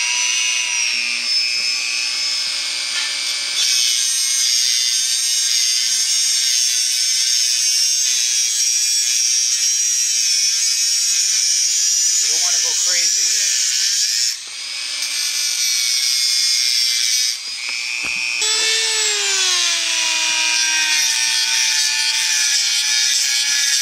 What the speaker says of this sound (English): We're just going to be using a Dremel just to get in there and just clean it up a bit